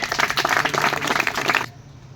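An audience welcomes a speaker at a campaign gathering with dense, lively clapping that continues steadily before cutting off abruptly near the end.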